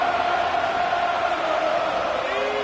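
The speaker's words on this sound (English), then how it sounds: "This crowd turning up the decibel level." A stadium crowd in Madden 25 roars in a dense, continuous wash of cheering, loud and sustained without breaks.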